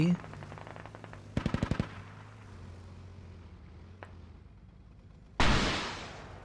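Autocannon from a BMP-2 infantry fighting vehicle in a video game firing a rapid burst of about six loud shots, followed by a single distant crack and then a sharp blast of gunfire near the end, over ambient battle noise.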